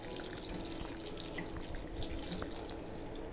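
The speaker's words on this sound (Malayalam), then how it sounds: "ഈ ടൈമിൽ തന്നെ നമ്മുടെ നോർമൽ പച്ചവെള്ളം ഇതിലേക്ക് ഒഴിച്ചു കൊടുക്കേണ്ടതാണ്." Plain water streams steadily into a cooking pan while ada payasam is being made, a continuous close splashing rush with no speech.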